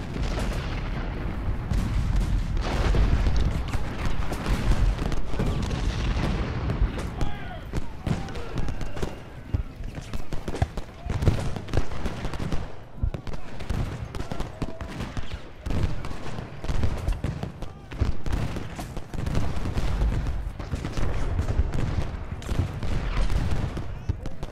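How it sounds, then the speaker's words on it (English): Artillery booms over and over on a Gettysburg battlefield in the Ultimate General Gettysburg game, with musket gunfire crackling between the loud blasts and a voice talking now and then. "Let's get some flanking artillery fire."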